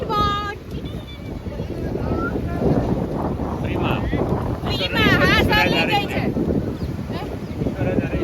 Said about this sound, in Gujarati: હવે અમે જઈએ છીએ સ્પીડ બોટમાં